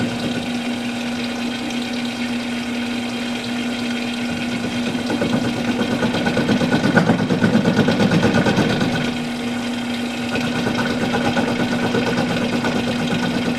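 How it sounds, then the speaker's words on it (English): A small metal lathe runs steadily in a home workshop, a constant motor hum with a sustained tone and a slight swell in the middle, heard alone without talk. "I'm working my little lathe"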